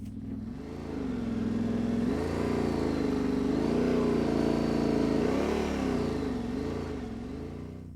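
A motorcycle engine runs steadily nearby as the bike rolls back on the clutch on a slight slope, the engine note rising and falling gently throughout, loud and continuous with no talk.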